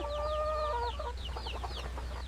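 Chickens clucking and a rooster calling over a steady low hum, with bright repeated cackles and chirpy calls rising and falling close by across a couple of seconds.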